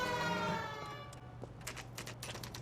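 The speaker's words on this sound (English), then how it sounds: "And since we know they're guilty, we'll use the siren." Police car siren in the video game L.A. Noire, a steady wailing tone at moderate level with some background clatter beneath it and no talking.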